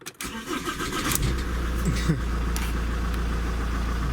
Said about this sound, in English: If I start the engine up,